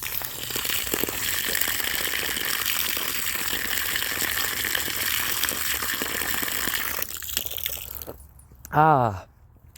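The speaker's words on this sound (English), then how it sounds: "I'm gonna go to my drinking fountain, which is a frost-free faucet." Steady rushing water pours from a frost-free outdoor faucet for several seconds, then cuts off, followed by a brief rising squeak.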